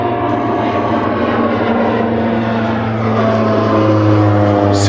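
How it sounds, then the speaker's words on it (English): A propeller airplane drones loudly and steadily overhead during an afternoon safari in the open bush, its engine hum continuous and swelling slightly toward the end, with no talking. "You might hear a plane above my head."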